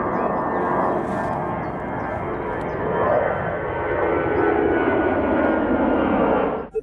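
A fixed-wing airplane passes overhead, its steady engine roar filling the whole stretch at a fairly loud, constant level before cutting off abruptly at the end; no one speaks.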